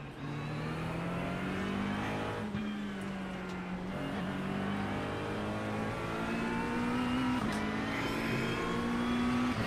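Several McLaren 720S GT3 race cars circuit Imola in a racing video game, a loud engine note rising steadily as it accelerates, with harmonic whine and brief gear-change dips, continuous and close throughout.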